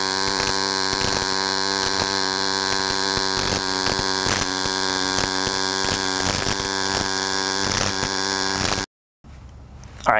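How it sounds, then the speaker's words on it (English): MIG welding in short circuit mode with 85-15 shielding gas, a loud, steady crackling buzz with rapid sputtering that runs for about nine seconds, then cuts off abruptly into near silence. "Let's weld with the 85-15 in short circuit and in pulse"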